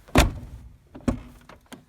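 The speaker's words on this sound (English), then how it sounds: "Let's double check the door again." The door of a 1998 Chevy full-size pickup truck being opened and closed after an exterior handle replacement: two solid latch thunks with lighter clicks and rattles between, close and alone.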